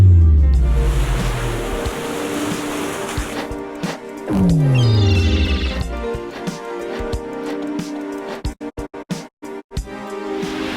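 Ocean waves break on Miami Beach with heavy wind buffeting the microphone for the first few seconds. Other choppy, interrupted sounds follow.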